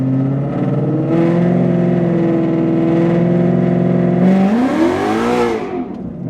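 A Ford Mustang GT holds a steady engine drone at about 2500 rpm, then launches with wheelspin as the pitch swoops upward and the tires hiss loudly, and the sound fades toward the end.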